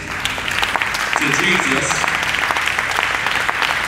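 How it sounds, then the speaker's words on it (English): A church congregation claps hands in praise at a youth group service, a dense, steady patter of many hands filling the room throughout, while a voice speaks over the applause. "why don't you give a hand clap of praise"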